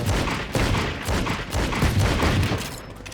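Dense, rapid revolver gunfire in a video game fills the scene, shot after shot in a loud continuous barrage with little pause between blasts.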